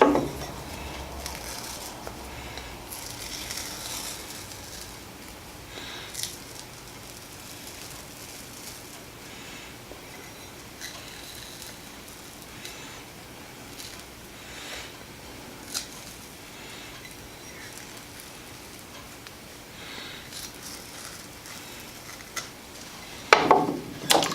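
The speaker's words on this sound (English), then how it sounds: "Peel off that old tape." Old tape peeling off a glass platen: a long run of faint sticky crackling and tearing, with soft scrapes and scattered clicks, then louder handling knocks at the very end.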